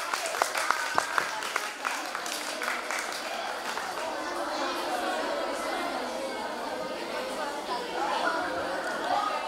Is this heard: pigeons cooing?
no